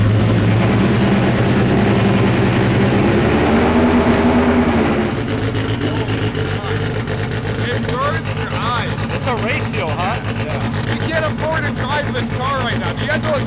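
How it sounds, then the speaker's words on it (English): A 1000hp all-wheel-drive Honda car idling as it warms up, producing a loud, steady, close engine rumble that holds throughout, with a slight shift in tone partway and faint chatter and clicks layered on top. "All right, we got the Honda warming up."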